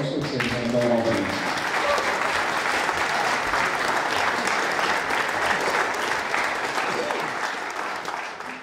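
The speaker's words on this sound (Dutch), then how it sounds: "geef ze een geweldig applaus, want ze zijn allemaal verdiend" An audience applauds award winners at a regional sports laureate ceremony in Ninove; a voice trails off at the start, then sustained clapping fills the hall and fades slightly at the end.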